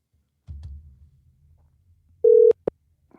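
A phone rings on an outgoing call: a muffled low rustle comes first, then one clean electronic ring tone and a short beep, all heard close and with no voices.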